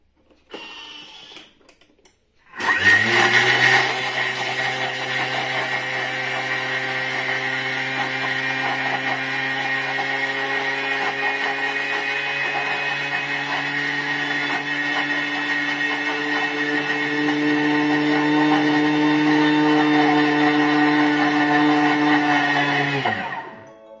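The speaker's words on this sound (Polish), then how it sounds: "I teraz będzie dość głośno, będziemy miksować." A kitchen blender runs loud and steady for about twenty seconds, grinding sugar with vanilla into homemade vanilla sugar. Its motor whine holds a constant pitch, rising slightly in loudness before it stops abruptly.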